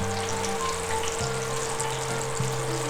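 Chicken frying in hot oil gives a loud, dense crackling sizzle that runs steadily throughout, close up, with a low steady hum beneath it.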